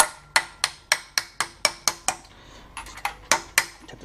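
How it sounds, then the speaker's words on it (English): A hammer driving an SKF bearing home through a socket, during a BMW E46 gearbox swap: a quick series of about a dozen light, close metallic taps, a short gap, then a few more. "that just needs to be hammered into there"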